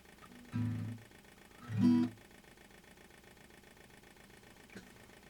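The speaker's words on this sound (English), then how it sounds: "It's like a ticking sound." Through a Zoom MS-70CDR+ multi-effects pedal, two short chugging, engine-like pulses sound close and moderately loud over a steady low electronic hum, followed by one faint click.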